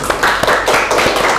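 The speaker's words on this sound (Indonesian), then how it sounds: "Oke, kita beri tepuk tangan." A classroom group of students claps together for a team, a dense burst of close hand claps with uneven rhythm and no talk.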